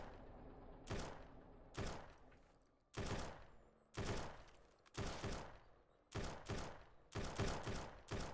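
Gunfire in the zombie survival game SurrounDead, a series of about nine loud, sharp shots spaced roughly a second apart, each decaying quickly, with the last few coming faster, with no voices.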